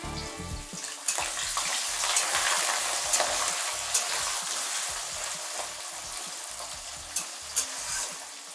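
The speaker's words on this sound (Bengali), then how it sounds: "এই আলুগুলো হালকা লাল লাল করে ভেজে নেব।" Potato pieces fry in hot oil with bay leaf, whole cumin and dried chilli, a steady sizzle broken by repeated scraping strokes of a spoon stirring the pan, close and fairly loud.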